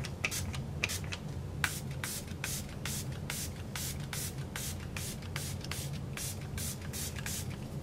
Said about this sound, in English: And then to set my makeup, I'm going to use the Milani Make It Last Setting Spray.